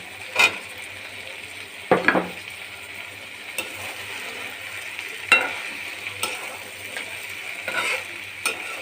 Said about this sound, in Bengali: এবার এর মধ্যে আমি আলু দিয়ে দেবো